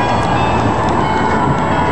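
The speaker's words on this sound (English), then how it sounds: "There's the tram." A tram rumbles past in Dam Square, a steady loud rolling rail noise that holds for the whole stretch with no voices.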